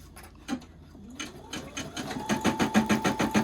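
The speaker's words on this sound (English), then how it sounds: "While you watch the machine embroider, this is in real time." A single-needle 4x4 hoop embroidery machine stitches a patch in real time, its needle pounding out a fast, steady rhythmic clatter that builds and stays loud and close.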